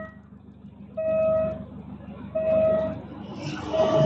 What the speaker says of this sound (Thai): รถไฟจะมา ทุกคน